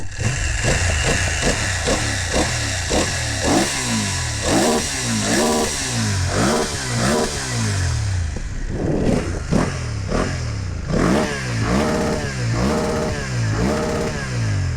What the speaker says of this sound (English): You can hear a little bit the engine. Let's check it out.